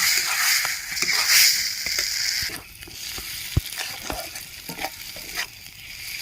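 Mashed pointed gourd paste for potol bata is stirred in a hot pan, giving a steady soft sizzle broken by repeated scraping strokes and sharp clicks of the spoon against the metal.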